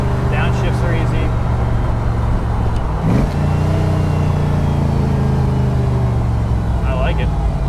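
Factory 5 replica of a 1965 Cobra roadster, its engine droning steadily and then blipping sharply mid-clip as it downshifts, heard close up under a brief bit of talk.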